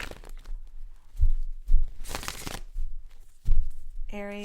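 Tarot cards being shuffled in bursts of crisp riffling and slapping, with a few distinct card snaps, ending in a brief electronic tone.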